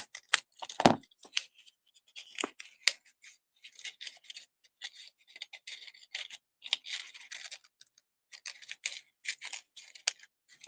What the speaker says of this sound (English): push it down that way, and then cut it again